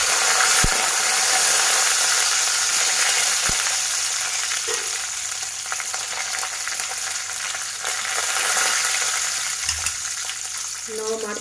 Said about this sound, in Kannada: ಕರಿಬೇವಿನೆಲೆನ ಹಾಕ್ತಾ ಇದ್ದೀನಿ.